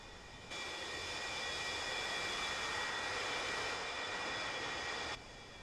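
A Su-35 jet taxis toward the runway, producing a steady, even engine whine and broadband roar that holds constant for about five seconds between quieter edges.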